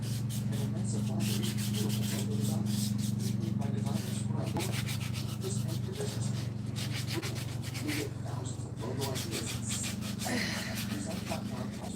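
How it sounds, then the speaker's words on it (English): Rhythmic back-and-forth wet sanding strokes, sandpaper used with water, rasp against a surface, steady and close, over a constant low hum in the background. "This makes sanding easier. Doesn't clog up your sandpaper as much."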